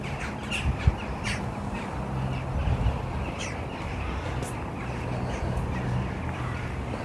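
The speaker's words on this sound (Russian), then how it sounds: "и какие-то взбесившиеся птички в огромном количестве" Dense flock of crows cawing continuously outdoors in a Kyiv park at sunset, near the Kyiv-Pechersk Lavra, many overlapping caws near and far over steady ambient city noise.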